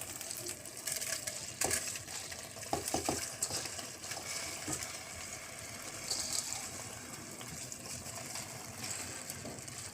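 Rice is stirred in a pot for mushroom biryani, giving irregular scraping, clinking and wet shuffling, close but fairly quiet, with a few sharper knocks scattered throughout.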